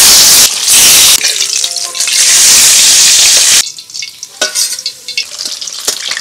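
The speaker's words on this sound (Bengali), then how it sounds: "সব মাছ ভাজা হয়ে গেল" Fish fries in oil for a fish curry with a loud, dense hiss for the first few seconds. It then drops to a quieter, sparser crackle and spatter, with no voices.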